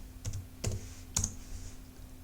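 A handful of crisp keystrokes on a computer keyboard, spaced unevenly as a short word is typed into a browser, close and fairly clear over a faint steady hum.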